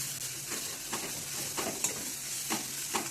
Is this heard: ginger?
yes